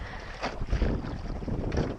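A sailboat moving under sail in a breeze, with steady wind buffeting and water rush against the hull, broadband and close, with no talk.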